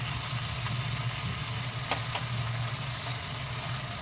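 Coriander, cumin, turmeric, garam masala, chili, dried fenugreek and amchur powder fry in hot oil for cauliflower sabzi, giving a steady, soft sizzle throughout with a couple of faint clicks and no talk.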